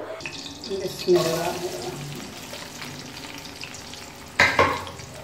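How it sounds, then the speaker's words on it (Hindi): Onions fry in a pan with a steady sizzle and occasional louder crackling bursts and stirring clatter, heard close up. "हम प्याज को उस वक्त तक फ्राई करेंगे जब तक तो ये हल्के से ब्राउन ना हो जाए, गोल्डन ब्राउन।"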